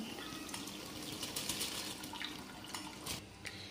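Boiling water is poured slowly from a pot onto drained rice for Arabian chicken mandhi, a faint, soft trickle and splash with a few sharper drips, quiet and steady, with no one talking.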